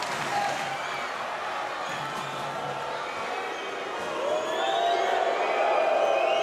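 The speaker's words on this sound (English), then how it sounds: "A few pantomime boos" A Paris 2024 Paralympic judo final crowd boos, a broad, distant arena roar that holds steady and then swells louder partway through.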